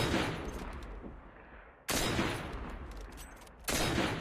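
Gunfire from behind in the battle royale game Cyber Hunter: three rapid bursts of automatic fire start sharply and trail off, fairly faint and distant-sounding, with no talking.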